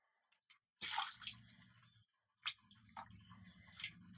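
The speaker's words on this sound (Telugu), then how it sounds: "ఇప్పుడు ఇందులోకి ఇంకిన్ని నీళ్ళు పోసుకొని చేయితోని విసుక్కుందాం." Water poured into a bowl of tomatoes and squished by hand for rasam: short wet splashes and sloshes in separate bursts with quiet gaps between, close and soft.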